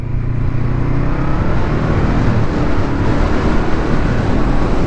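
Honda CB500F 2019 motorcycle exhaust, a steady loud low rumble running continuously throughout, close to the microphone with no break.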